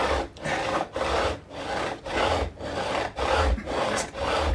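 Steel fret ends being trimmed and filed flush on a Fender MIM Stratocaster neck during a re-fret, a steady back-and-forth rasping stroke repeated about eight times in an even rhythm, close and fairly loud with no talk.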